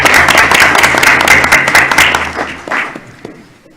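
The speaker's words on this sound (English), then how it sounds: "One more round of applause for everyone" An audience at a school board meeting breaks into loud, close applause, a dense burst of clapping that thins out and dies away after a few seconds.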